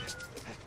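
A single brief, faint cat meow from the video game No More Heroes, heard on its own.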